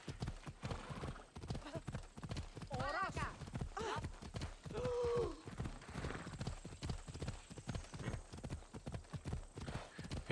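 Horse hooves clip-clopping at a steady riding pace in Assassin's Creed Odyssey, close and continuous, with a couple of brief whinnies in the middle and someone talking over much of it.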